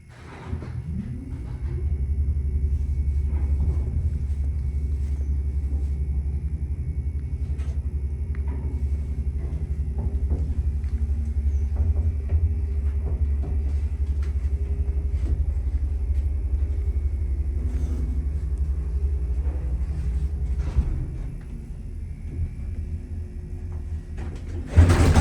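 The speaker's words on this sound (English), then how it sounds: "All right, get a listen to this motor." The motor of a vintage American traction elevator at 36 West 46th St. runs with a steady, loud low hum and rumble, holding level for about twenty seconds before shifting slightly near the end.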